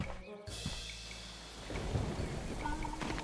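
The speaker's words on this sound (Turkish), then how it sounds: "Yağmur başladı işte." A low rumble of thunder rolls in, then a soft patter of rain builds steadily, with no one speaking.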